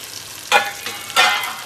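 Onion and tomatoes frying in a pan, a soft sizzle punctuated by two short bursts of stirring scrape about half a second apart.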